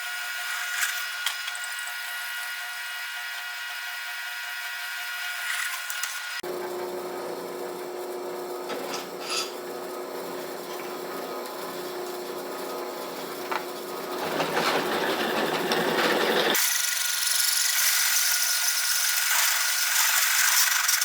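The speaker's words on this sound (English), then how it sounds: "we'll go over on the drill press now and we'll blow a hole in that little X right there" A drill press grinds steadily through metal, drilling a half-inch hole for a rear shock mount, its whine shifting in pitch as the bit bites deeper, with a brief pause before a harsher final stretch.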